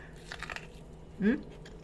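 Someone bites into a cob of boiled corn with a single close, crisp crunch, and a low, faint murmur sits in the background.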